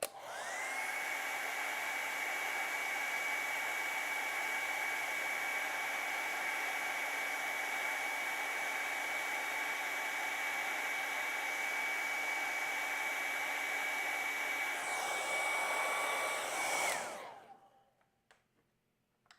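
A hair dryer blows steadily and close for about seventeen seconds over a watercolor painting, then winds down and cuts off, leaving near silence.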